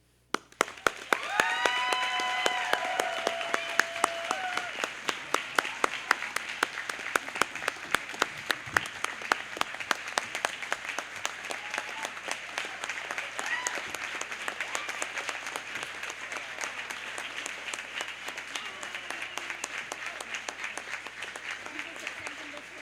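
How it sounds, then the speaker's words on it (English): A graduation audience applauds the school faculty, sustained even clapping from a large seated crowd over twenty seconds, with a voice talking over the start of the ovation. "We could stand and applaud you for an hour and it wouldn't be enough time"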